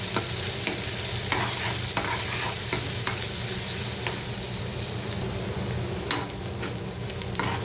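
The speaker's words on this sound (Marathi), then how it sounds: "तेल गरम झालं की कांदा घालायचा कांदा आपण परतून घेऊया व्यवस्थित" Chopped onion sautéing in a ladleful of hot oil while a shrimp and potato curry is started, a steady dense sizzle throughout with frequent scraping stirs of a spoon against the pan.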